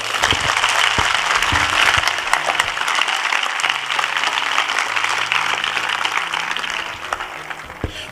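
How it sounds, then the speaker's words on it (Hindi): A church congregation claps loudly for Jesus during a Hindi gospel sermon, sustained vigorous applause with scattered sharp claps that eases slightly near the end. "आइए हम सब यीशु के लिए ताली बजाएं जोर से"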